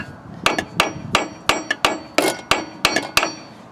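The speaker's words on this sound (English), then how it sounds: "I've tried beating on it with a hammer" A hammer strikes a stuck bolt on a 1990 Kawasaki ZZR600 motorcycle, about a dozen sharp metallic blows in a quick, slightly uneven rhythm, close and loud, with no talking.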